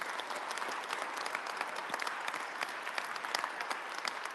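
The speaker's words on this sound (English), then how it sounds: "Round of applause for all." A conference audience gives a round of applause, with dense, steady clapping that sounds fairly distant and soft and carries on without letup across the whole stretch.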